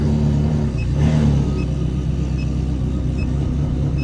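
A Ferrari on its first drive after months of sitting sends out a steady, deep engine rumble from inside the car, with a brief rise in revs near the start before settling into a constant drone.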